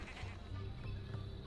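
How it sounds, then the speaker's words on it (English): Sheep in the video game Tak & the Power of Juju bleating, a wavering nasal cry heard close but quiet over a steady game background. "Alright, little sheep, go!"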